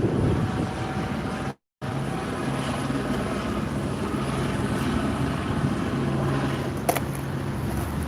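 Helicopter circling above Los Angeles City Hall downtown, a continuous rumbling rotor drone with a faint low throbbing, broken by a brief dropout of silence and a small sharp knock near the end.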